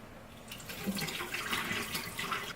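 Water running and splashing as chilled crappie fish are drained, a steady wet gush at moderate level with no talk over it.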